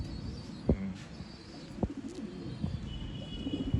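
Old-line pigeons cooing in a loft in Bangalore, soft repeated low coos with a few sharper bird calls and light knocks, fairly close and steady over a quiet background.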